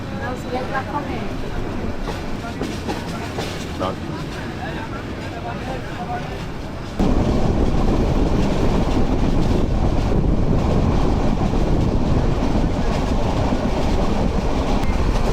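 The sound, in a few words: Kishoreganj Express train running between stations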